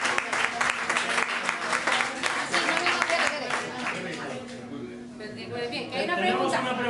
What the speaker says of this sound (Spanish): yo creo que le agradecemos con otro aplauso a la charla